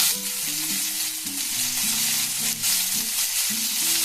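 Onion paste fries in a pan with a steady, dense hiss and sizzle, close and continuous, while music plays underneath.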